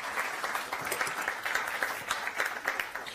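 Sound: audience applause

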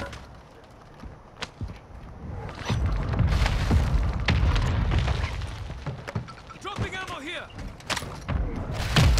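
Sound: hostile strike explosions in the video game Call of Duty: Modern Warfare II

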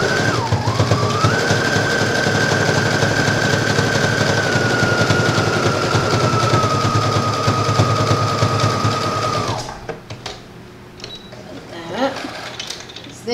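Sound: sewing machine stretch stitching a dress seam

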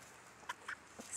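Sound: chicken clucking

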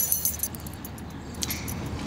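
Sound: keys jangling

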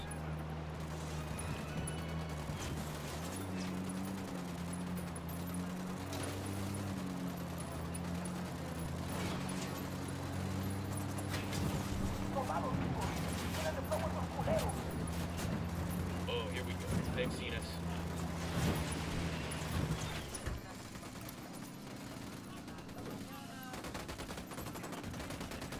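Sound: gunfire in video game Ghost Recon Wildlands

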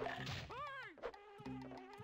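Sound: bees buzzing in Banjo-Kazooie video game

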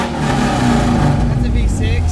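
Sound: Ford Mustang V6 engine revving

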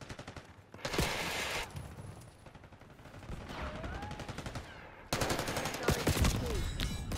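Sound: gunfire in video game Derelict

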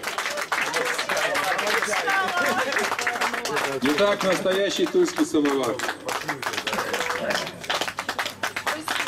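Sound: audience applause

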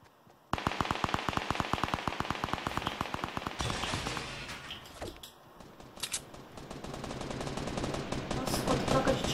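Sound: gunfire exchange in a video game

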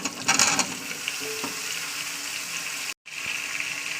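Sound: spices frying in oil

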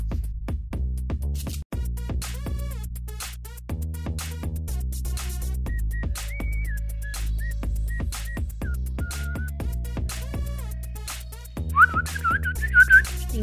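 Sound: person whistling to imitate a bird tweet

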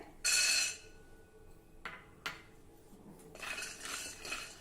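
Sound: peanuts dry-roasting in a pan on a low flame

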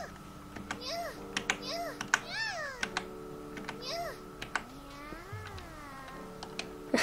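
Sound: cat meowing in a video game

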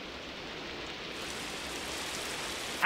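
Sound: rain starting to fall

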